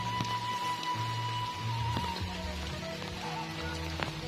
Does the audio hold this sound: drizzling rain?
yes